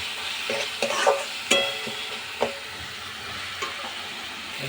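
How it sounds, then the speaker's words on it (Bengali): Ground cumin, coriander, turmeric and chili powder masala frying in a pan, a steady close sizzle broken by several sharp scraping stirs and light knocks of a spoon against the pan. "এই মশলাটা ভালো করে কষিয়ে নেব।"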